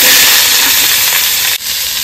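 Tomatoes added to hot oil with fried spices give a loud, steady sizzle and hiss that is briefly interrupted near the end, with no talk.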